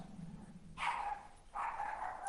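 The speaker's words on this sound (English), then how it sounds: "That's my dog, sorry guys." A dog barks twice indoors during a Sunday service, two separate barks about a second apart, faint and somewhat distant in an otherwise quiet room.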